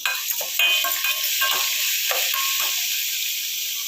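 Curry leaves sizzle and crackle in hot oil with roasting cumin and black pepper, a loud steady hiss with small pops and the scrape of stirring throughout.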